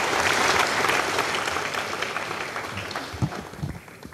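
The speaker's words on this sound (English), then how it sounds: "So that is worth a round of applause." An audience at an Ariane 5 launch event bursts into strong applause, loud and dense at first and then gradually thinning, with a few louder individual claps near the end.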